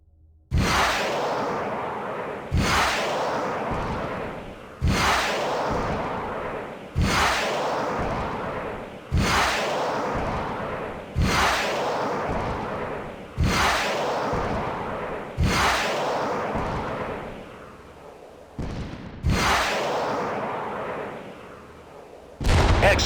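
Harpoon missiles launched one after another in the space combat game Freespace 2: about ten sharp launch bursts at regular two-second intervals, each a loud whooshing blast trailing off before the next, with no talking.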